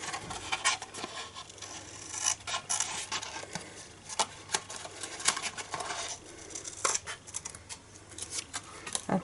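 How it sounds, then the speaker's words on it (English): Scissors snip and rasp through cardstock, trimming tabs off a Christmas gift box template, in close, irregular cuts with light rubbing and paper handling between them and no talking. "Now this little tab, this big tab here, we need to cut away as well."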